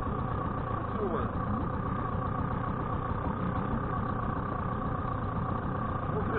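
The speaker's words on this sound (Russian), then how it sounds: "Ну вот, все, врубил. Холостой ход." Mikatsu M4FHS 4 hp two-stroke outboard motor idling, a steady close-up drone with constant vibration, while someone talks over it.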